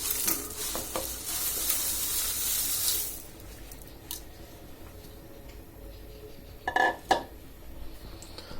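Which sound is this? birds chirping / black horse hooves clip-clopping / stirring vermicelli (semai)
stirring vermicelli (semai)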